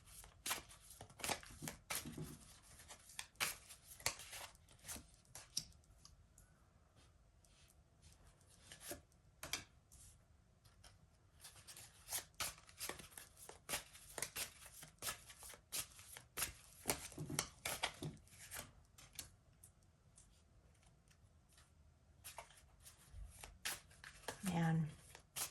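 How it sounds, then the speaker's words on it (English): Cards are shuffled repeatedly in quiet, crisp bursts of riffling and sliding, with soft pauses between rounds. "Being guided to keep shuffling."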